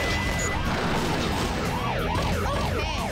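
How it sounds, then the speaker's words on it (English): Police car sirens in the video game Sonic Adventure 2, several wailing sirens overlapping loudly and continuously amid game noise. "And all the police cars that will not shut up."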